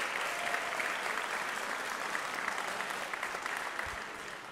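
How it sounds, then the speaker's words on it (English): An audience claps steadily for six graduating seniors at a school sports awards event, a dense, even wash of applause with no voices, fading slightly at the end. "a little round of applause for our 6 seniors"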